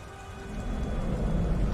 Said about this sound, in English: Goddamn rain. Look like it's ever gonna let up.